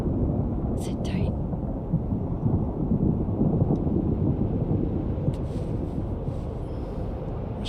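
Stormy rumble and wind in the video game Life Is Strange, a steady low roar with gusty noise filling the whole stretch, broken by a few faint higher crackles.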